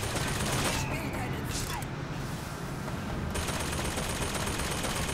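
Gunfire in the video game BioShock Infinite, a dense, steady burst of shooting and explosive rattle that fills the whole clip at close range, with no pause.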